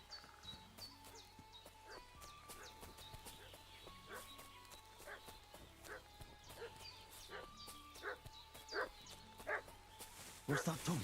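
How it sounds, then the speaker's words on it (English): Dog barking in the medieval video game Kingdom Come: Deliverance II: repeated sharp barks at irregular intervals, moderately distant, over a quiet rural ambience with hoof clops and other animal sounds, growing louder near the end. "What's that dog making such a fuss about?"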